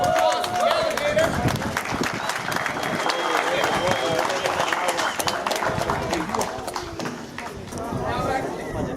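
An audience at an Everglades alligator farm claps for the alligator, a fairly loud, uneven burst of applause with crowd noise and voices mixed in throughout.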